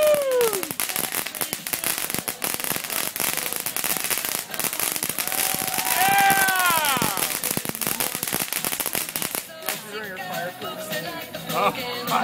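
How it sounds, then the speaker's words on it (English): A 4th of July fireworks show in Silverlake, with rapid crackling bursts, whistling rockets and loud pops close by, while spectators cheer and talk throughout. "It's the best fireworks in the whole country."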